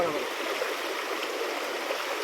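Floodwater of the Bharja river in the Konkan countryside rushes steadily past, a continuous, full roar of flowing water that stays even from start to end.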